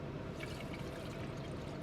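Regular spring water poured steadily to fill a container, a continuous close trickling splash with no talk over it.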